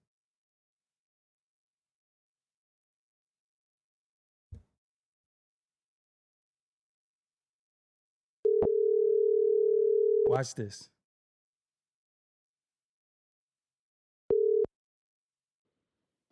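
A steady telephone tone hums for about two seconds after a brief click, then a short burst of voice, and later a second brief beep of the same tone.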